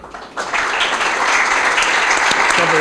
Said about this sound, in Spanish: quiero pues un aplauso para ellos, para el público